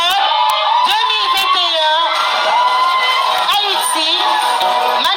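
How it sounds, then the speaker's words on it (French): A crowd at the Miss World Haïti 2021 crowning cheers loudly and without pause, with shrill whoops and screams over the din of a packed audience. "Je vous demande d'applaudir, il faut être fair play."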